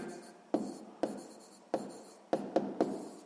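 A pen scratches and taps across paper while writing out a sixth-grade math exercise, giving short strokes at an irregular pace, close and quiet.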